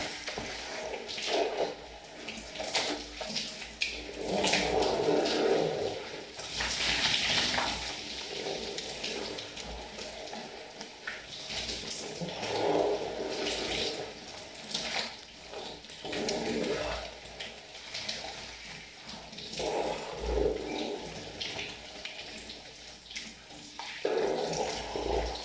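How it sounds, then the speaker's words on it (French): Water running steadily while hair is rinsed during a hair wash, a continuous close splashing and pouring with fluctuating surges over about twenty-five seconds, no talk. "on va rincer, on va aller au rinçage"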